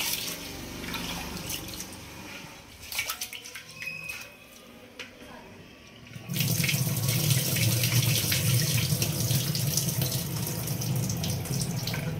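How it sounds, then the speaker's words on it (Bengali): Rice for basanti pulao is gently rinsed in water: faint sloshing and drips at first, then from about halfway a steady, louder stream of running water pours on without pause. "আস্তে আস্তে এমন করে জাস্ট ধুয়ে নেব যতক্ষণ না স্বচ্ছ জল বেরোচ্ছে"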